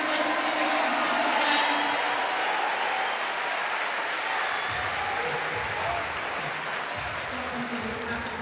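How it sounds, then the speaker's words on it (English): Sustained applause from a large crowd at the men's artistic gymnastics qualification of the 2026 Commonwealth Games, steady and fairly loud throughout, with a commentator's voice talking over it in the latter half. "let's give all our gymnasts a huge round of applause now"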